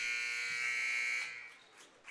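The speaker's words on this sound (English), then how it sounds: "And the buzzer sounds." A basketball scoreboard buzzer ends the third quarter of a girls varsity game, a loud, steady electronic tone holding for just over a second before cutting off into faint gym ambience.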